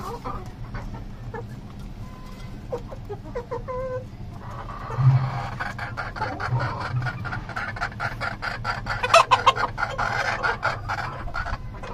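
Chickens and roosters of home-bred and market-bought flocks cluck steadily throughout, with a rooster's crow rising partway through and a sharp call near the end, close and moderately loud, with no talk.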